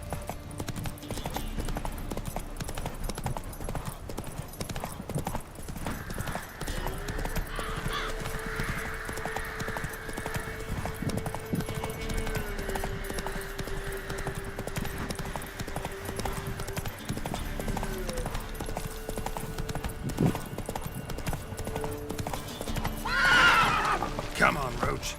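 Roach, a horse in The Witcher 3, gallops with a fast, steady clip-clop of hooves over a rumbling bed, joined by a neigh near the end and scattered crow caws.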